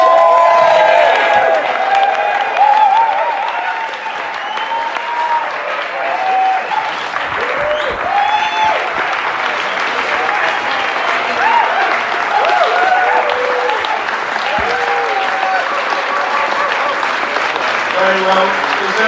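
Sustained, loud audience applause with some cheering fills the room at the Bath Comedy Festival New Act of the Year final as the winner is announced, steady throughout with voices mixed in.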